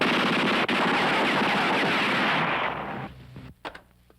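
Gunfire from an action film shootout, a loud, dense, continuous burst of rapid shots that fades after about three seconds into a few scattered cracks.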